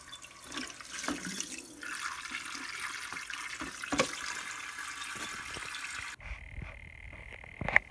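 Running water sprays and splashes over the blades and grill of an electric fan being washed, a steady close rush for about six seconds before it stops, leaving quieter dripping and a brief sharp clatter at the end.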